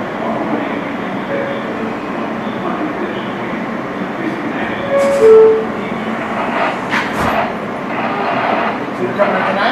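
On board an R160 F subway train running via West End and 4th Avenue, a loud steady rumble of rolling wheels with faint clicks and a brief squeal, as people talk over it.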